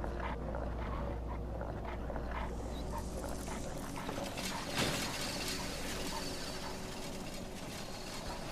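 Dogs bark and whimper faintly in the video game Skyrim at Castle Volkihar, set under a dense, steady bed of game ambience and mechanical noise.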